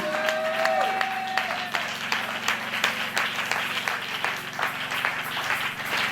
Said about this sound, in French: Est-ce qu'on peut acclamer notre Dieu? Est-ce qu'on peut acclamer Jésus?